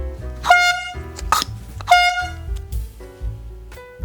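An emergency hand pump air horn gives two short, loud blasts with a shorter sharp burst between them. Each blast is a brassy, harmonic-rich tone that rises briefly and then holds, heard up close.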